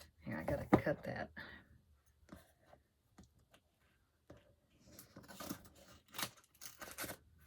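Scissors cut open the plastic wrap on a bundle of ruled notebooks with a few short snips and crinkles, mixed in with quiet talking from a nearby voice.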